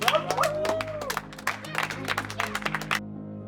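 An audience claps in a burst of scattered, uneven hand claps that thin out toward the end, over sustained background music.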